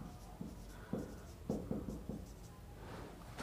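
Chalk or marker tapping and scratching on a board in a chemistry lecture, a few short strokes in quick bursts over a low room hum, with no speech heard.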